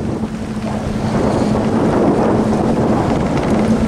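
A Boston Whaler idling at about 1,000 RPM near the mouth of a channel, its steady low engine hum blending with continuous wind buffeting and water wash, with no talk.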